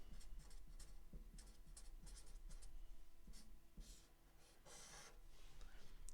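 A pen scratching out a single word in a series of short, quiet strokes and taps, heard close against a steady low background hum.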